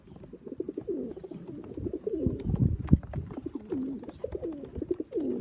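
Tippler pigeons kept as stock birds coo in a loft, with repeated throaty rolling calls overlapping close by, mixed with wing flutters and shuffling noises.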